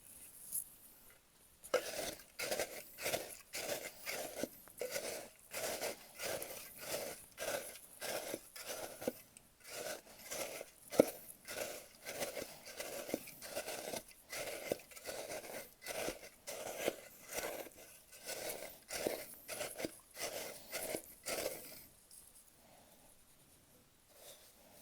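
Repeated crunching and scraping as a spoon crushes dry ingredients for a prison-style cheesecake, steady rhythmic bursts close up over about twenty seconds before trailing off.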